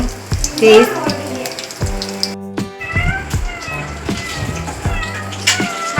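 Banana fritters (vazhakkappam) fry in hot oil with a soft continuous sizzle, while a cat meows loudly nearby over it several times.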